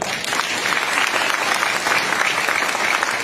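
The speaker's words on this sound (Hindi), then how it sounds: "अगर बात सही रहा करे तो तालियां जोर से बजाया करिए" An audience at a teachers' protest rally over the TET requirement claps loudly and continuously, a dense, even wash of hand claps without pause.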